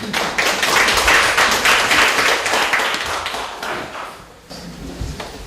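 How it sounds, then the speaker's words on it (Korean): Audience applause welcoming a party leader to a Democratic Party policy forum, a loud dense burst of clapping that swells, then fades out toward the end. "큰 박수로 맞이해 주시기 바랍니다"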